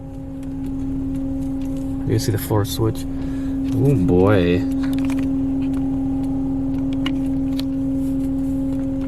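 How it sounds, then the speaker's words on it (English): Hydraulic machinery of a D&S Odyssey car wash at Super Suds in Henderson, Texas hums steadily throughout, a constant tonal drone with someone talking briefly over it. "It's making that very distinct hydraulic sound."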